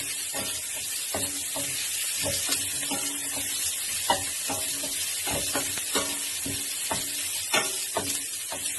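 Garlic sautéing in a pan for Filipino chicken adobo, with steady close frying hiss and repeated spatula stirs and scrapes throughout, no voices.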